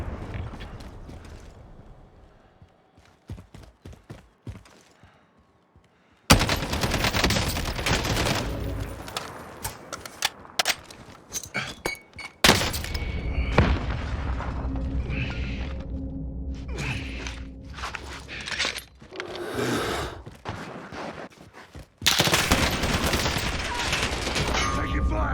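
Rapid gunfire bursts and fusillades in the Call of Duty Warzone Battle Royale game on PC, dense and loud in long stretches, with mechanical clanks and a voice talking in between.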